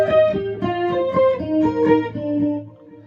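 An electric guitar plays a short melodic phrase, each note trailing into echoing repeats that stack and blur together.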